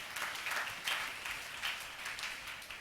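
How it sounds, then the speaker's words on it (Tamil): Congregation clapping hands in rhythm during a Tamil church service, the claps falling in a regular pulse, fairly faint and roomy. "கைத்தட்டி ஆண்டவரை மையப்படுத்துங்க பாக்க."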